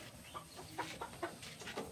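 Black Australorp chickens cluck softly in short, irregular bursts inside a coop with chicks, fairly close, with a faint background hum.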